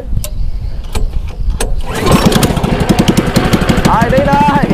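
A small wooden boat powered by a car engine starts up and runs with a loud rapid chugging putter, close by, while people talk over it.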